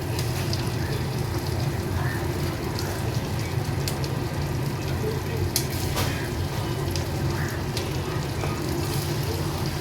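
Magur catfish pieces frying in hot oil, a steady dense crackle and hiss running the whole time at an even, close level, with no voices over it.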